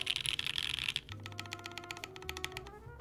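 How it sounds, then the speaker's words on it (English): A backspace key on a prototype mechanical keyboard clicks several times in quick succession, near and fairly loud, with a brighter clack early on and softer repeated taps afterward. "I wouldn't want all my keys to sound like this, but because it's the backspace."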